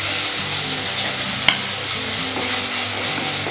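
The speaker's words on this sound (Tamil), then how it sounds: "வெங்காயம் கொஞ்சம் நல்லா வதங்கட்டும்" Onion and curry leaves sauté in a hot pan for a beetroot poriyal, giving a steady, close, loud sizzle broken by a few stirring scrapes, with no voices.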